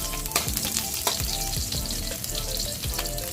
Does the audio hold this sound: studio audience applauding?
no